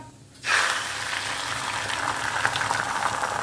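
A small amount of oil heating in a wok before an omelette is made, starting with a sudden steady crackling hiss after a quiet moment and continuing as a close, even sizzle.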